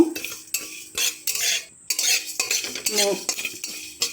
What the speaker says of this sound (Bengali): গ্যাসের আঁচটা মিডিয়াম ফ্লেমে রেখে আমি এই পাঁচফোড়নটা প্রথমে ভেজে নেব